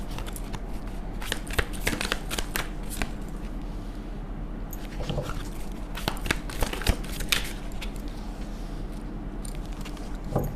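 A deck of tarot cards is shuffled by hand close up, giving a steady run of soft riffling and papery slaps with brief bursts and pauses, no voice over it.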